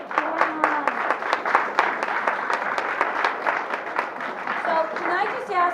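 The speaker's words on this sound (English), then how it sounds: "Let's give a round of applause to John." A meeting audience claps for John in a room, a dense run of quick overlapping handclaps with voices talking through it.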